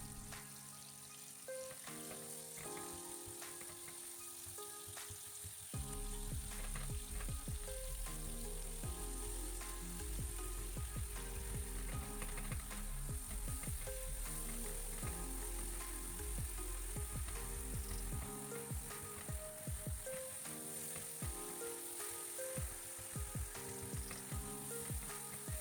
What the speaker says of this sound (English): Saute until it's nice and mushy.